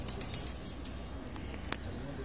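Pigeons cooing on a city rooftop where pigeon fanciers keep their flocks, a steady low murmur of coos with a few sharp clicks or flaps above a constant background, and faint voices in the distance.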